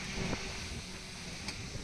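Strong winds roar during a night storm with heavy rain in Delhi NCR, a constant loud rushing buffet with a couple of brief gusts, and no voices.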